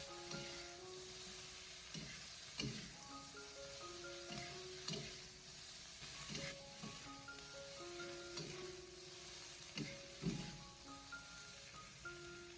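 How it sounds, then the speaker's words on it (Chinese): Deer antler mushrooms and pork belly stir-fried over high heat in a wok, a soft continuous sizzle broken by repeated scraping and clanking of a spatula against the pan in an uneven rhythm, close but quiet, with no talking. "我们开大火给它持续的爆炒，大概1分多钟，将所有食材炒出香味"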